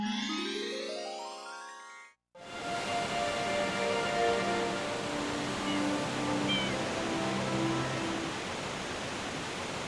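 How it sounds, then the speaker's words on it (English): Rushing waterfall in Noki Bay from Super Mario Sunshine, a steady broadband roar of falling water with faint game tones running through it, coming in loud and continuous after a brief musical passage and a short silence. "right there, they do show us the waterfall"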